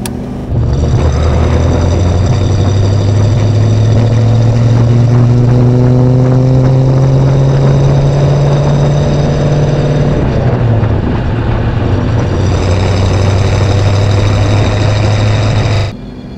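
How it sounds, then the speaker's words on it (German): A 1936 Cord 810 Convertible Phaeton engine pulling steadily while driving, its drone rising gradually through a gear, dipping briefly around a shift, then droning again up close and loud, with no voices. "dann können wir gleich eingekuppelt im zweiten Gang weiterfahren"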